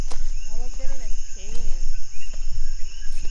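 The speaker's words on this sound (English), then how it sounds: "You hear the frogs and the river." Frogs chirping near a river at night in Puerto Rico, a loud close chorus of short rising calls over a steady high insect whine and low water rush.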